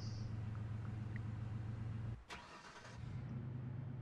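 Car engine in the life-simulation video game inZOI, a steady low hum of a vehicle driving that briefly drops out before resuming, with no talk over it.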